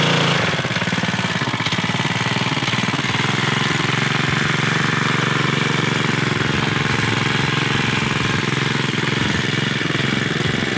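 A Yerf Dog go-kart engine, an off-road kart picked up cheaply, runs steadily with a loud, buzzing small-engine drone, continuous and close throughout.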